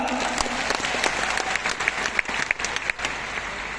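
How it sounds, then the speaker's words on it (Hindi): Audience applause, a steady wash of clapping from a large crowd that holds at an even level from start to finish. "9 साल के लिए ताली बजाओ एक बार।"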